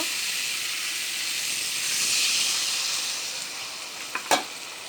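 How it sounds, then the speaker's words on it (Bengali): Potatoes sauté in hot oil in a pan for a light rohu fish curry, a steady close hiss of frying that swells and eases, ending with a couple of quick utensil scrapes. "ভালো করে কষিয়ে নেব আলু"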